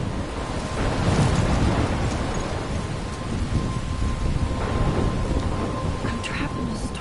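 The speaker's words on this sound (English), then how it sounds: "I'm trapped in a storm?" A video game thunderstorm with heavy rain and low rolling thunder, loud and continuous, with a few sharper cracks.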